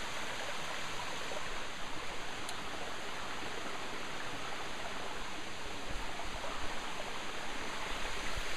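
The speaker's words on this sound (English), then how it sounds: "Sitting behind this waterfall." Steady broadband rush of a waterfall on the Foothills Trail, heard from right behind the falling water, continuous and full throughout with no voices.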